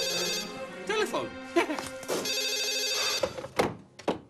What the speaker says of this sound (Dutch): Oh, stop. Telefoon.